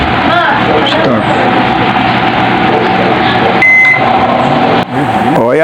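A repaired microwave oven runs after a blown-fuse and faulty-transformer fix, a loud steady hum filling the whole stretch close by, with a short beep near the middle and a voice talking over it.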